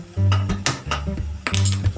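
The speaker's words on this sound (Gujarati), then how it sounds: "આપણે સરસ હલાવી દઈશું." A spoon stirs spiced curry with turmeric and coriander-cumin in a metal pot, scraping and clinking against the sides in two close, busy bursts with a low steady hum underneath.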